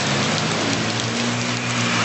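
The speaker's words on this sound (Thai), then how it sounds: "ฝนตกขนาด เห็นกันจะอย่างเงี้ยครับ" Steady rain pouring down during a heavy downpour in Thailand, a dense continuous hiss of drops on surfaces, loud and close with no break, with a faint low hum beneath.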